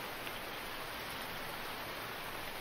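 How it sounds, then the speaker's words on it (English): Rain falling in the survival video game Hold Your Own, a faint, even hiss of steady rainfall with no other sounds or voices. "It's raining."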